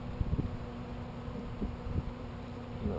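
Russian honey bees buzzing around an open hive, a faint continuous hum with occasional louder passes of individual bees and light handling knocks nearby.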